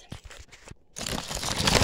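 Cutting into a doll's box packaging, with a few short plastic crinkles and cuts that give way to a steady, louder crackling rustle of the packaging, close by.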